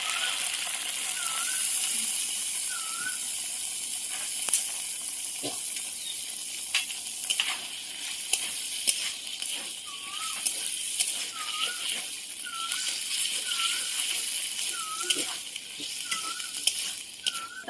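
Soaked chickpeas tipped into spices already frying in a pan, giving a steady close sizzle with stirring and occasional clinks across the whole stretch, no talk.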